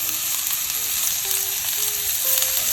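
Cumin seeds sizzle in hot oil in a Staub roaster, a steady close crackling fry with faint stirring, lasting the whole short stretch with no talk.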